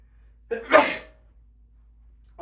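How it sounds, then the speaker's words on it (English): A single close, sharp human sneeze with a brief inhale just before it, otherwise near silence. "I've never sneezed so much."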